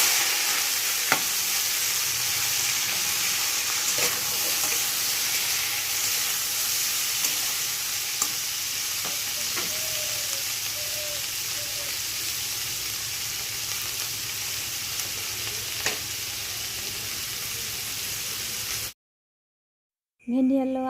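Okra and potatoes fry in a pan with a steady, close sizzle that runs unbroken for about nineteen seconds, marked by a few faint stirring clicks, before a short silence and a brief burst of sound at the end.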